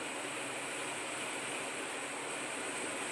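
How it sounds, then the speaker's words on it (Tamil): Dry ginger and coriander coffee boiling in a pot, a faint continuous bubbling rush with no talk. "நல்லா கொதிச்சிருச்சு."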